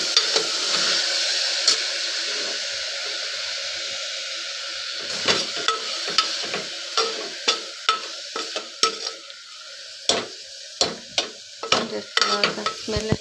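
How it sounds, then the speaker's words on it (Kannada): Food frying in oil in a pan, heard as a loud, close, steady sizzle that later breaks into a run of sharp stirring scrapes and taps against the pan, with no talk. "ಒಂದು 5 ನಿಮಿಷ ಎಣ್ಣೆಯಲ್ಲಿ ಹುರ್ಕೊಂಡು"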